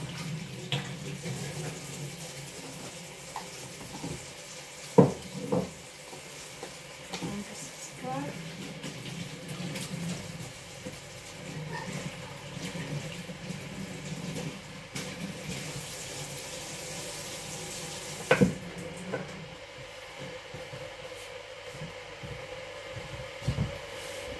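Warm water runs steadily from a tap into a sink in a village house, a continuous close splashing flow with a few clinks and knocks, and a voice talking at times.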